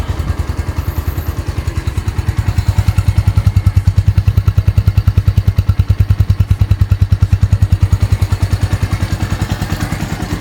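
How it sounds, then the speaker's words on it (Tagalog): Steady idle of a Keeway CR152 motorcycle through its stock muffler, a close, loud, even low pulsing thump with a slight mechanical clatter, running alone for the whole stretch. "ito yung tunog ng stock na tambutso natin"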